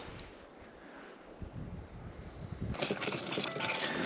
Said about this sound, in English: Yeah, it's windy, but not sustained. It's like gusts.